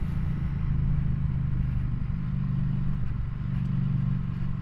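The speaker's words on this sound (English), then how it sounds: "Surface I'm riding on today is very hard packed, dry" Dual sport motorcycle rolling over a hard packed, dry gravel road topped with loose marbly gravel, a steady low engine drone with continuous road rumble and no talk.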